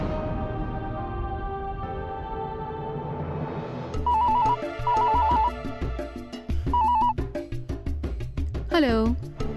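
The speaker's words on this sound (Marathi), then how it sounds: "फोन वाजतोय" A phone ringtone plays at home: a repeating electronic melody of short bright tones in bursts, fairly loud over background music, with a rising sweep near the end.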